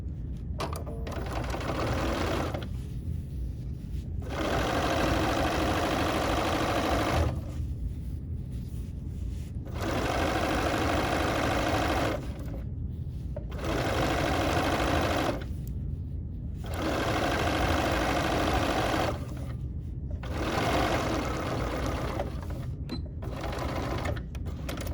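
A sewing machine stitches a fat quarter project in repeated loud, steady runs, each broken by short pauses.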